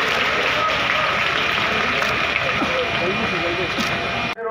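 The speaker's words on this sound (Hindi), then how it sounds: "आप लोग जोरदार तालियों की गड़गड़ाहट से अपने मुख्य अतिथि जी का स्वागत करें।" Loud, sustained applause from an audience welcoming the chief guest at a Deputy CM's arrival event in Payagpur, Bahraich, a steady wash of clapping filling the whole stretch with voices mixed in before it cuts off abruptly.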